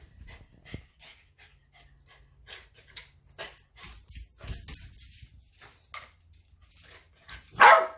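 Dog panting and sniffing close by, with a sharp bark-like burst near the end, while it waits for food at breakfast time.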